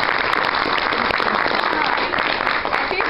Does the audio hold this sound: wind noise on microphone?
no